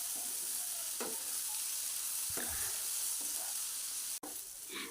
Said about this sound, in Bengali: পেঁয়াজগুলো যাতে তাড়াতাড়ি ভাজা হয়ে যায়